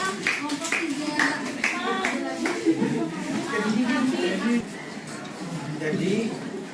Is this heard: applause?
yes